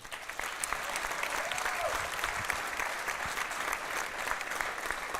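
Sustained audience applause fills a boxing event hall, steady and continuous throughout with a dense wash of clapping at moderate distance and no break.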